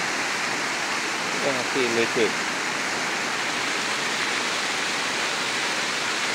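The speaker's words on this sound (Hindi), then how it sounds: "रोड में से ऊपर से ये झरना जैसा बनता है" A roadside waterfall in Uttarakhand during the monsoon makes a constant, dense rush of falling water, with a short spoken phrase briefly on top of the roar.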